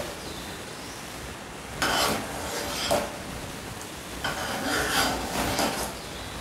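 A wheat satva mixture with cardamom powder and freshly grated nutmeg is stirred, giving several soft scraping, rubbing strokes in bursts against a quiet background, with no talking.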